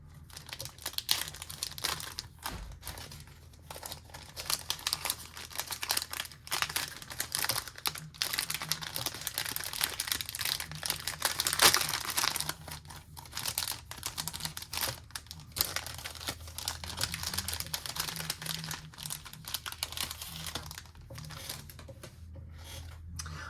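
A paper envelope from a pen pal is torn open and handled up close, giving continuous soft crinkling, rustling and ripping paper sounds with irregular bursts throughout, and no talk.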